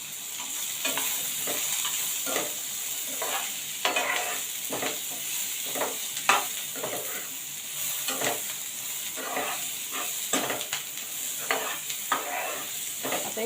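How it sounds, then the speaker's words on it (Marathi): Fresh coconut pieces roasting in a pan for a drumstick curry, a soft continuous sizzle with repeated scraping stirs at an even rhythm, close and without talk. "मी इथे ओल्या खोबऱ्याचे तुकडे घेतलेले आहेत थोडे ते घालते ते पण त्याच्यामध्ये भाजून घेऊया"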